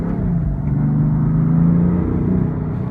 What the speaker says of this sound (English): The BMW M3 exhaust sounds really good